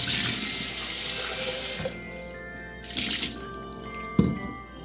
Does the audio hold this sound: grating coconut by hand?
no